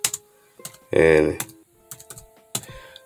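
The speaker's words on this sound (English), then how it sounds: "watch my boring ass type stuff into this keyboard" Computer keyboard typing, scattered sharp key clicks and short bursts at close range, interrupted by a brief voiced word.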